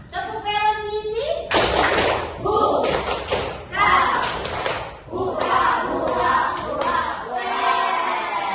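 A school class claps a group cheer routine in rhythmic bursts, close and loud, with sharp slaps and thumps repeating in short patterns over several seconds. Children's voices join in alongside the claps.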